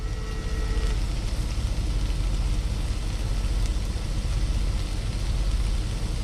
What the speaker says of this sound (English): We're just waiting for that to sizzle up a little bit more.